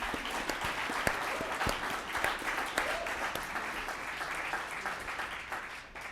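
An audience in a hall claps steadily for a college at a civility award event, a dense sustained applause with individual sharp claps standing out.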